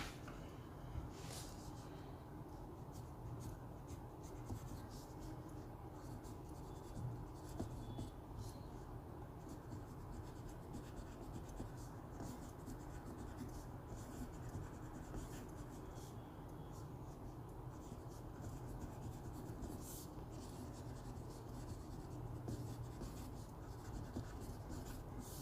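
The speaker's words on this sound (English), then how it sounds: "So I'll just put a writing sample of this first before I take up my oblique broad." Waterman Carine fountain pen with a medium nib writing on paper, a steady close scratchy rustle of strokes running continuously under a low room hum for the whole stretch.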